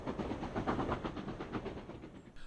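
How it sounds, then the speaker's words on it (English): A passing train of blue-and-grey era stock whose last vehicle is an LMS design brake second coach, heard as steady rhythmic wheel clatter over rail joints that fades slightly near the end. "The last vehicle in the train is an LMS design brake second."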